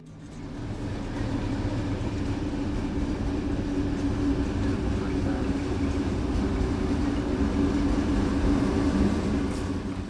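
A train at the Nairobi standard gauge railway terminal gives a steady, loud, continuous rumble that holds evenly throughout.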